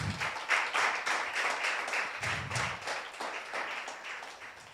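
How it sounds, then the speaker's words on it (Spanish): Congregation clapping in a church, scattered hand claps rising and falling in uneven bursts, moderately close and fairly quiet, with no speech over it. "Dale un fuerte aplauso al Señor."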